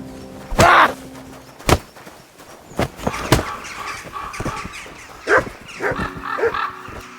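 A dog in Kingdom Come: Deliverance 2 barks loudly in several close, separate bursts amid game ambience and other noises, with no voices.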